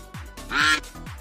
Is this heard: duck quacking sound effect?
yes